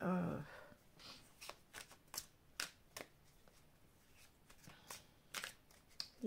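A deck of cards is shuffled for a reading, a soft flurry of quick riffling flicks and taps in irregular bursts, close and quiet, with a brief murmur of voice at the start.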